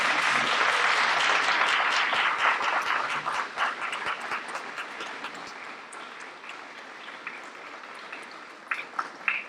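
A large audience at a Teacher of the Year awards ceremony applauds loudly and continuously, the clapping gradually thinning and fading out toward the end.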